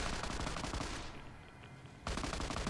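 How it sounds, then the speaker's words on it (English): Automated turret defense system firing in Fallout: New Vegas, a loud rapid burst of gunfire that stops for about a second and then resumes just as dense. "Activate turret defense system. Will that take them out?"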